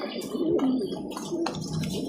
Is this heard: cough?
no